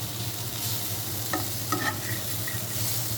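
Pointed gourd (potol) frying in a pan, a quiet, even sizzle with a few light clinks and scrapes from stirring, close and unaccompanied by speech.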